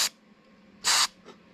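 Two short hissing bursts from a spray can of cleaner aimed into a volume control, the second longer and louder, with a faint third puff at the end.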